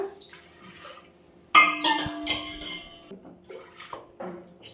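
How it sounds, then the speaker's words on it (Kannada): Water is poured over washed lentils in a pot with a sudden splashing rush, followed by softer trickling and a few light clinks of the pot. "ಈಗ ಬೇಳೆ ಮುಳುಗೋಷ್ಟು ನೀರು ಹಾಕೋಣ"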